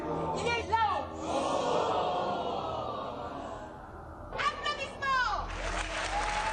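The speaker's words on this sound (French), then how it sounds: "Applaudissements" Applause from a television studio audience on a midday talk show, moderate clapping running under a presenter's voice, swelling again toward the end.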